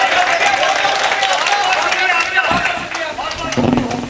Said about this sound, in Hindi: तो मेरे लिए तालियां बजाइए